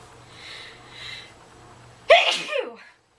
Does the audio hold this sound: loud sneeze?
yes